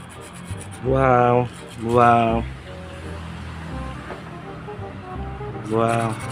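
Rust is scraped off an original 2010 Gomax bicycle in three loud, grating rasps, two close together and one a few seconds later, over a low background hum.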